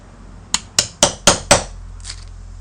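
The copper winding of a microwave oven transformer is chopped out with five quick, loud, metallic strikes in an even rhythm, then a faint clink and quiet.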